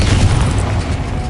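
An Incendio fire spell is cast in Hogwarts Legacy, giving a loud, dense low roar of flame that fills the moment without pause.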